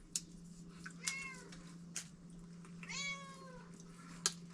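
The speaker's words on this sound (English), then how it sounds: "I get a cat that comes up and wants to be part of it" A cat meows indoors, giving two drawn-out, moderately close meows along with a few short sounds, against a quiet, humming background.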